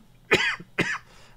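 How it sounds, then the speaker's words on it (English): Two sharp, loud coughs about half a second apart from a nearby man, each a quick rasping burst that fades fast, with quiet room tone between and no talking. "got a bit of a cough"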